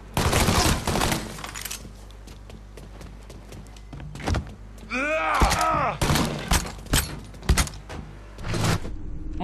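Gunfire in the video game Mafia 3: rapid bursts of sharp, loud shots in clusters with short gaps, mixed with other game effects and a player's voice at times.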